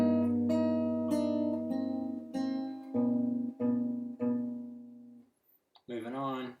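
Fingerstyle acoustic guitar plays the intro of a song, a run of plucked, ringing notes and repeated chords on the low strings, close and clear, then a brief pause before a voice starts speaking.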